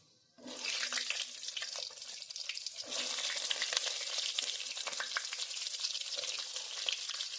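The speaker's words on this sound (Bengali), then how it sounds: "পাঁচফোড়নটা দশ সেকেন্ড ভাজা হয়ে গেলে দিয়ে দেব কেটে রাখা পটলগুলো" Cut pointed gourd and panch phoron sizzle loudly in hot oil in a pan while cooking a Bengali fish curry. A steady fry hiss starts suddenly, then grows fuller partway through, with no talking.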